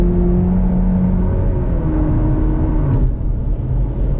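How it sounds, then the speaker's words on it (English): Chevy Camaro with a four-cylinder engine held at full throttle, a loud continuous engine drone with steady tonal whine, close and without pause. "the Camaros do have that thing when you floor it and you're kind of keeping in the throttle"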